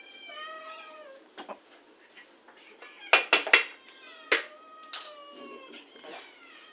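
A house cat meows repeatedly, with several drawn-out, rising and falling cries spread over a few seconds, close and fairly clear, mixed with light clattering and a person calling to it.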